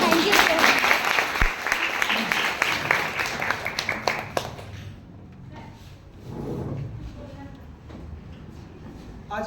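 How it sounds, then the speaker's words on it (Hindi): Applause from a workshop audience thanking participants, a dense burst of clapping in the first few seconds that fades into quieter room noise and talking. "सो अब मैं ना तुम्हारे लिए ताली बजाता हूँ।"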